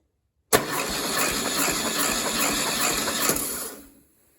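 An air-cooled VW engine cranks on the starter during a compression test, a loud, steady mechanical whirring churn lasting about three seconds before it cuts off.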